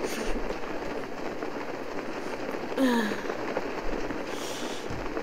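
Rain pours steadily in the open world of Zelda: Breath of the Wild near Zora's Domain, a constant hiss with a brief whooshing glide sound partway through.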